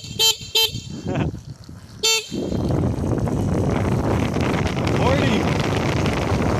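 Motorcycle horn mounted on a Begode Master electric unicycle, blaring in two short beeps and then one more, loud and close, followed by steady rushing wind as the rider moves off.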